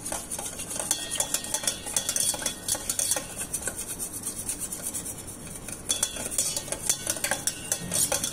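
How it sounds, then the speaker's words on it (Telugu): Curd being beaten briskly with a metal spoon in a bowl for Mysore bonda batter, a rapid, steady clinking and tapping rhythm, close and fairly loud, with no talking. "మీరు పెరుగు ఎంత బాగా బీట్ చేస్తే మీకు అంత మంచిగా పఫీగా వస్తాయండి"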